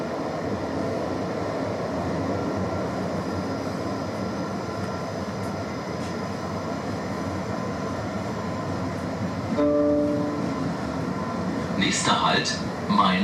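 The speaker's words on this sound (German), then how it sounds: "Anschließend geht es in den 655 Meter langen Tunnel Mainz Hauptbahnhof." S-Bahn train hauled by a class 111 locomotive runs into the 655 m Mainz Hauptbahnhof tunnel, with a steady loud rumble inside the car, a brief tonal squeal near the end and a German station announcement starting over it.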